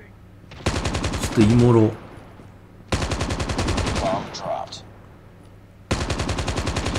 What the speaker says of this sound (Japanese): 銃声だけがやったら聞こえるやん。